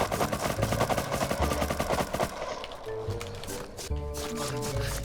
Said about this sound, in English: They're pretty sure they're shooting out the turret right now.